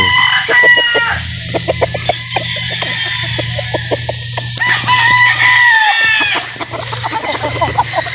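A flock of roosters and hens crows and clucks loudly and close by, with overlapping long crows and rapid clucking running continuously over a low background hum.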